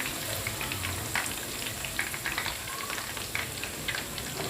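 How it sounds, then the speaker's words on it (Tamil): Chicken 65 pieces deep-frying in hot oil make a steady, dense crackling sizzle with scattered sharper pops, close and continuous, with no voices. "இப்போ 65 எல்லாம் பொரிச்சு எடுத்தாச்சு."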